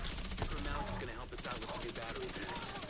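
Rapid, continuous suppressed SMG fire in The Division video game, a 200-round weapon, chattering densely throughout with game noise around it.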